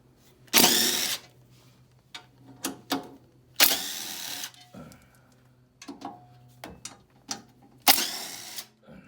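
A power tool spins out 12 millimeter bolts from a panel on a Kubota X1140 tractor, heard as several short, sharp whirring bursts separated by pauses and quiet clinks, close by with no talk.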